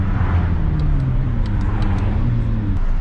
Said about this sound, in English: Just hear that sound on the buildings. Downshift, downshift.